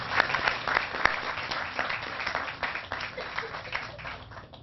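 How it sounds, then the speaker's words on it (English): Audience applause at a neighborhood revitalization event honoring city council members, a room of people clapping steadily at moderate volume, slowly thinning out as it goes. "so let's give them a round of applause as well."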